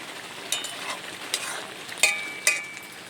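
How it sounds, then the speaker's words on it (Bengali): Small mourala fish simmering in a covered pan, a soft continuous bubbling hiss broken by a few light pops and faint metallic clinks. "মৌটি মাছগুলো দিয়ে আমি আবারও একটু ঢাকা দিয়ে ফুটিয়ে নেব"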